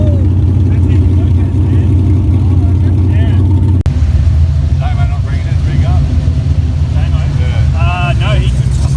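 A car engine rumbling loud and close with a deep steady drone at a street event, while several people talk and shout over it.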